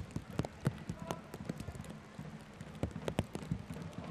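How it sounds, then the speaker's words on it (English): Steady rain falls over an outdoor soccer stadium during a USL match between Harrisburg City Islanders and Tampa Bay Rowdies, a continuous wash of patter with scattered sharper drops and faint crowd or voice sounds beneath. "Rain coming down steadily right now."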